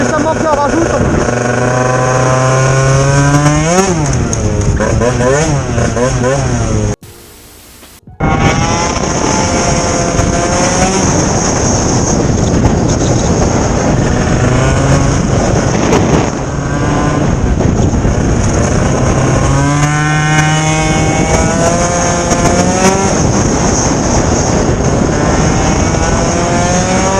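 A 50cc scooter with a modified, filter-style exhaust revs loud and close, its buzzing engine note rising and falling continuously, with a brief dropout midway.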